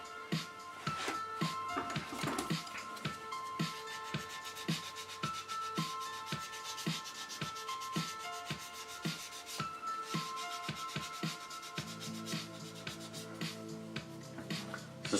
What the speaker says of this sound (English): what I want to do is a little bit of sanding on it